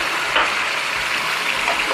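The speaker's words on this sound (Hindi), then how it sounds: "अब मैं इसमें तकरीबन आधा कप पानी डालूंगी।" Roughly half a cup of water is poured into browned masala for chicken korma in a hot pan, giving a steady gushing hiss over a faint low background hum.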